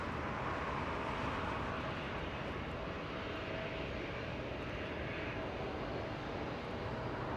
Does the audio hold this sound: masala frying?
no